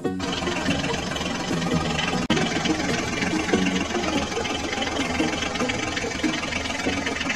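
A toy John Deere tractor runs in sand with a steady, continuous motor whir that holds at an even level throughout, with one brief dropout partway through.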